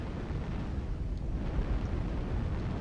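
Airstrike explosions in MechWarrior Online sound as a dense, rumbling, low-pitched roar of blasts that keeps going for about three seconds at a steady level, with no talking.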